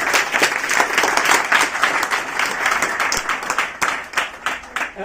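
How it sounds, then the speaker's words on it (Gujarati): An audience claps for Krishnaben at an event, dense applause of many hands held steady for several seconds, slightly uneven toward the end. "ખૂબ જોરદાર તાળીઓ બેન માટે."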